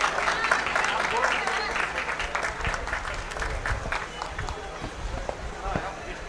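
Sustained applause from an audience honoring a representative at a felicitation ceremony in Dhanbad, a dense wash of clapping that carries steadily throughout and eases slightly toward the end, with crowd murmur mixed in.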